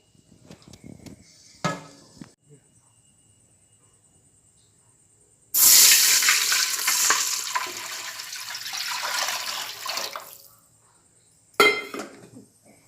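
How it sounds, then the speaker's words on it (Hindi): A sharp hiss bursts out as water is poured into hot ghee, sizzling loudly for several seconds before fading, with brief clatters before and after. "अब मैं इसमें पानी डालूँगी।"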